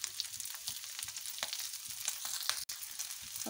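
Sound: chicken liver frying on a tawa over low heat

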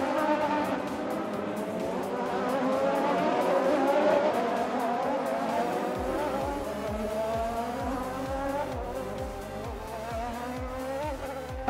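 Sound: Anki Overdrive magnetic toy race cars racing on track

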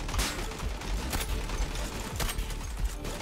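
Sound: Cheytac M-200 sniper rifle gunfire in a video game

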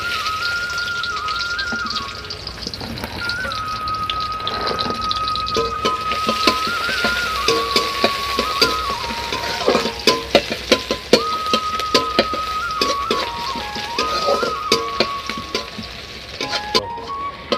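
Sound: onions frying and being stirred in oil in a kadai

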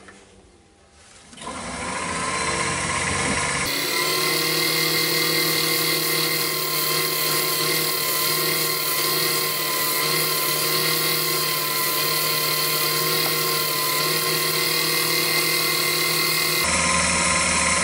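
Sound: sanding wood on a lathe

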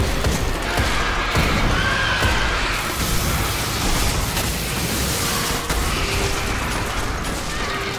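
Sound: grenade explosion in a video game

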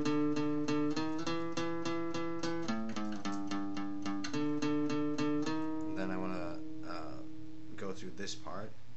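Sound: guitar playing the main riff of a song

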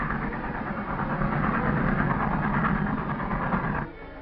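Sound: train arriving

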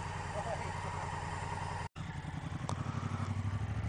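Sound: BMW 1200 GS Adventure motorcycle engine idling

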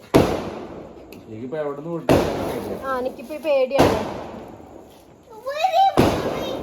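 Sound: firecrackers bursting during Vishu celebration

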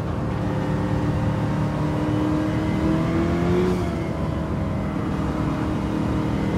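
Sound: Nissan Silvia S13 engine under throttle, racing video game

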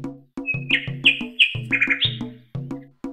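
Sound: nightingale song

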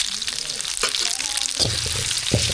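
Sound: mustard seeds and cumin sizzling in hot oil for sambar tempering

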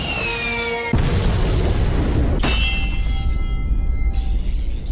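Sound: explosions from clay landmines and guided missile attacks

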